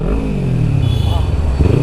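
A modified Kawasaki Ninja 300 fitted with an Akrapovic exhaust revs up close, its engine note rising and falling with a rough, throaty rasp while someone talks over it.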